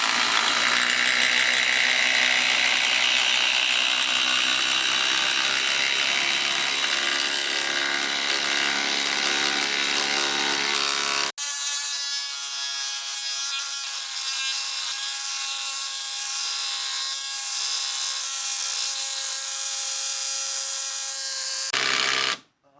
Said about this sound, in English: I'll drill a pilot hole first, of course.